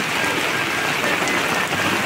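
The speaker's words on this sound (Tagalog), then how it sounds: "sobrang lakas ng ulan" Heavy rain in Legazpi pours down in a loud, steady, dense hiss of drops on surfaces, close and unbroken, with no voices over it.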